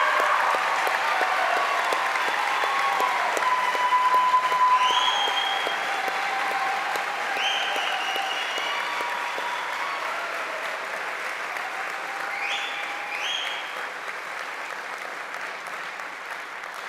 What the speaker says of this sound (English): How about one more round of applause for the class of 2030?